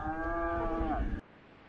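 A single long, loud moo from cattle in a countryside field, close by, which stops abruptly and leaves quiet outdoor ambience.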